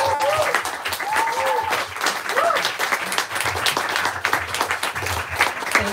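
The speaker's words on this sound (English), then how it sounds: "let's give Greg a huge round of applause." Audience at an author's book talk bursts into enthusiastic applause, a dense, continuous clapping lasting several seconds with whoops and cheers rising over it.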